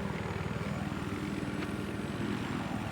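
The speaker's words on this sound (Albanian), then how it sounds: "Helikopter." A helicopter in the video game Battlefield 3 drones steadily overhead with a constant, faint rotor and engine wash and no talking.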